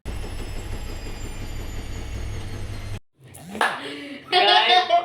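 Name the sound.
washing machine running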